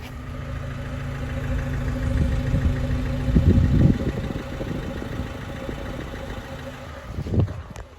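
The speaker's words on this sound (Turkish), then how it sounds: "Aracın bir de egzoz sesini bir durduğu halde hırıltısına bir bakalım." An Opel Astra 1.6 CDTI diesel engine idles with a steady low rumble and slight knocking, a brief louder swell of exhaust noise partway through.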